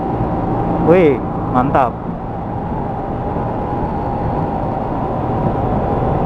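A Yamaha NMAX scooter's engine drones steadily under wind noise as it accelerates on the road, while a voice briefly exclaims near the start.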